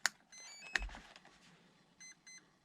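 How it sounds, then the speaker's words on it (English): An RC plane's electronic speed controller, in an FMS Futura V2, beeps during throttle range programming: short, close electronic tones, a few single beeps followed by a quick pair, in a quiet room. "2 beeps all the way down, 6 beeps to verify that you're out of programming mode"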